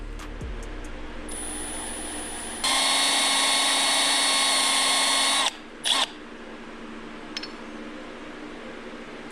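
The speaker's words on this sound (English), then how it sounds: "I'm not gonna keep drilling through." A power drill whines steadily at high pitch for a few seconds, boring through a thin part into a cavity for a blowthrough power valve, then stops abruptly, followed by a brief second burst against a low background hum.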